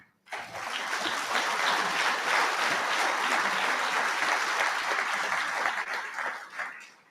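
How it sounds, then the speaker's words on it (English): Sustained audience applause fills a formal awards dinner hall, a dense, steady wash of many clapping hands that swells quickly, holds strong for several seconds, then tapers off near the end. "Please join me with a round of applause for the tireless efforts of the Marine Corps Association team"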